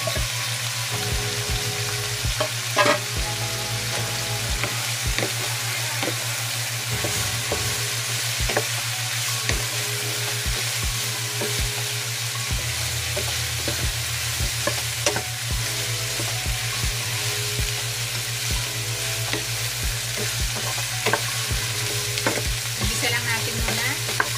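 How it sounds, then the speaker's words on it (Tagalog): Chicken fries with carrots and potatoes in a pan under a loud, steady sizzle, while a utensil stirs and scrapes through it again and again, close up and continuous. "Habang niluluto, naigi natin yung ating chicken, ihalo na natin yung ating carrots at saka patatas."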